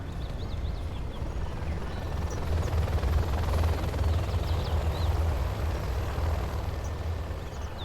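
An aircraft in a video game makes a flyby, a steady loud engine roar that swells slightly in the middle and holds throughout, with no voices.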